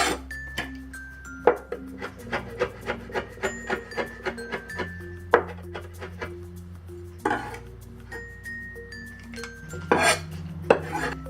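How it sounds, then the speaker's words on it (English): A knife trimming and seeding peppers on a board beside dishes, a run of sharp, evenly spaced taps and clinks, close and crisp, with a louder clatter near the end. "Next we'll trim and seed the peppers."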